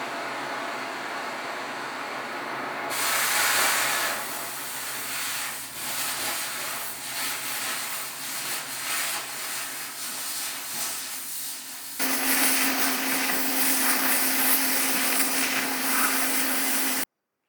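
An oxy-acetylene cutting torch slicing steel heated to cherry red, a steady loud roaring hiss that jumps in intensity partway through as the cutting oxygen opens, then cuts off abruptly at the end.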